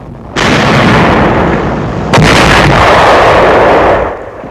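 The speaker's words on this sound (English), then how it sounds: "A tank of the 2nd Armored Division opens fire." A 2nd Armored Division tank firing its main gun in 1945 wartime combat footage, a loud, sustained roar of cannon blasts that swells abruptly at the start and again midway, then fades out, with no talk.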